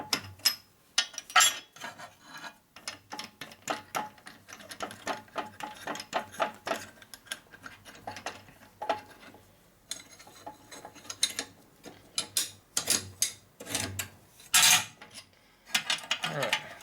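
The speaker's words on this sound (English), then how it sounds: "Alright, take the burrs off." A cut metal motorcycle bracket is deburred by hand in a garage, giving irregular scraping and clicking metal contacts with short bursts and gaps, fairly close and moderately loud.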